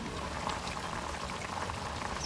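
Sinampalukang manok broth, chicken soured with fresh tamarind, bubbles at a steady rolling boil in a pot, a dense close bubbling with no talk.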